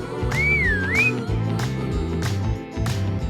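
A bright rising-and-falling whistle, near and clear, over rhythmic background music with a steady beat.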